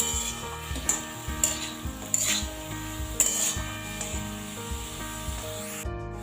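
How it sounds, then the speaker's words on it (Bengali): Beetroot pieces and banana stem fry together in a pan, a constant sizzle with rhythmic rubbing and scraping strokes of a spatula stirring, close by and without speech. "এবার আমি কেটে রাখা বিটগুলো তোড়ের মধ্যে দিয়ে দেব বিটের টুকরোগুলো দিয়ে দিলাম এবার আমি একসাথে মিশিয়ে নেব"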